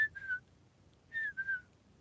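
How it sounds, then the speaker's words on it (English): A person whistles two short phrases, each a pair of clear sliding notes, with a brief quiet gap between them; close and fairly soft. "I can't even whistle the way I want to whistle."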